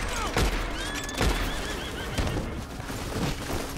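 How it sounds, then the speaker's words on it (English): A horse in Red Dead Redemption 2 whinnies loudly and close, with hooves clip-clopping and thudding in between over a few seconds, alone without talk. "I found a horse."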